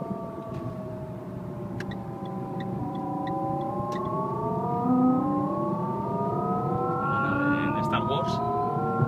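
A synthetic whirring tone, like a sci-fi spaceship, rises and glides steadily in pitch with engine revs, played through a Renault Clio's speakers inside the car over a low engine rumble.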